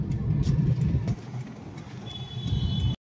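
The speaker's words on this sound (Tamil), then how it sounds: "ரன்னிங் டிராபிக் தான், பட் அப்படியே ஊர்வலமா தான் போயிட்டு இருக்கு." Slow street traffic rumbles steadily nearby, a continuous low engine drone with faint horn-like tones and passing hiss, dipping slightly midway before cutting off abruptly.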